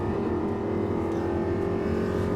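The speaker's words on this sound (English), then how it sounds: "LP560 with 2 engines versus LP560 with 1 engine basically" Lamborghini Gallardo LP560 race cars, one a twin-engine build, roar under acceleration with a steady, loud, close engine drone and a sustained tonal whine throughout.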